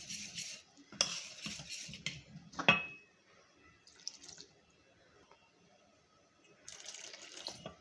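Besan (gram flour) batter is stirred with water added bit by bit, giving soft wet sloshing and scraping in uneven bursts, close by and fairly quiet, with calmer stretches between.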